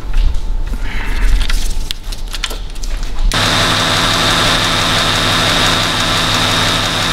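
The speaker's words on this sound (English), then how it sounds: "So here's our new auxiliary drive belt up and running." Dodge Grand Caravan 3.6 V6 engine idling with a newly fitted serpentine belt, a steady broadband hum with a faint whine that holds evenly after a sudden start, preceded by irregular clatter and handling noise close by.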